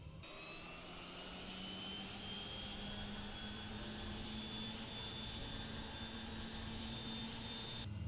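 Pilatus PC-6 turboprop engine spooling up during start in Microsoft Flight Simulator 2024, a steady broadband whine with rising high-pitched turbine tones and a low hum, continuous and loud with no talk.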